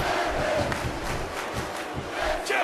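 Wrestling video game crowd roars and chants continuously at a steady loud level throughout a Smackdown match, a dense arena cheer with no clear talk over it.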